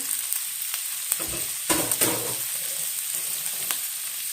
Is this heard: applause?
no